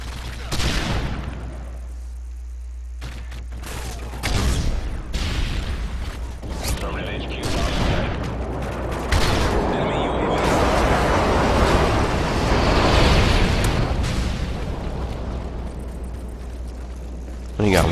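In Call of Duty: Modern Warfare 3, a player's body loaded with C4 goes off when they're killed, a booming blast heard amid dense, continuous gunfire and game noise, with talk over it.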